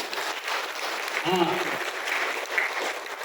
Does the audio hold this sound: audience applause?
yes